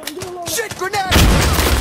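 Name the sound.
grenade explosion in a video game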